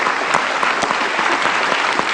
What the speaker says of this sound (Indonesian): Kita kasih tepuk tangan dong, terbanyak ketika itu.